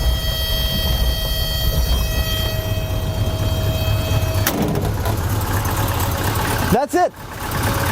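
A Suzuki Samurai, started from bone cold after sitting for days, runs at a steady low idle under a thin mechanical whine, then a brief louder disturbance near the end; a voice speaks a few words over it.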